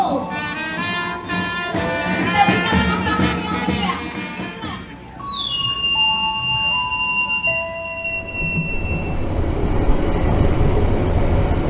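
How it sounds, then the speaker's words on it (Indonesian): The Jayabaya economy passenger train rumbles along rails arriving at Malang station, a steady rolling noise beneath a chiming station melody and announcement tones, with wheel squeal toward the end. "Sesaat lagi kereta api Jayabaya akan tiba di tujuan akhir stasiun Malang."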